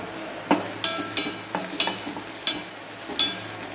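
Onion and tomato frying in a pan for green bean bhaji: a low sizzle under a steady series of sharp spoon scrapes and stirring clacks, about two per second, close by and with no talk.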